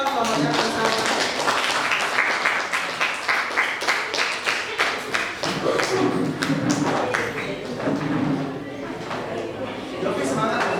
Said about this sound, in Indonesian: Silakan tepuk tangan kelompoknya Kansa.